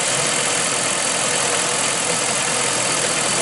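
A Hemi engine idles with an odd noise, giving a steady, loud mechanical drone up close that holds unchanged throughout.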